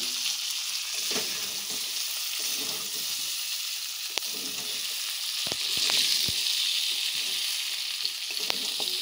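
Potatoes and papaya fry with goat meat in a pan for a mutton curry, a steady close sizzle punctuated by occasional scraping stirs and sharp clicks, with no one talking.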